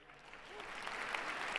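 Audience applause at a presidential inauguration broadcast, a soft continuous wash of many hands clapping at a distance, building slightly over a brief stretch.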